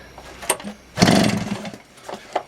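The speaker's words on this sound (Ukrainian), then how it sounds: "Знову даю газ трошки, щоб більші оберти пішли." A Soviet Ural-2T Elektron two-stroke chainsaw engine, just started after long storage, gives a short throttle blip: a loud raspy rev lasting under a second that then falls back to faint, uneven sputters.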